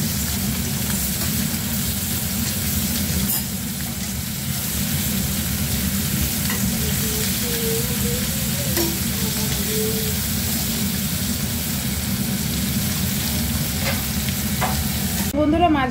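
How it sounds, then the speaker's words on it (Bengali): Prawns fry lightly in hot oil in a pan while being stirred, producing a continuous close sizzle with occasional scraping stir sounds throughout, and no talking. "তো এখন আমি চিংড়ি মাছগুলো হালকা করে একটু ভেজে নেব।"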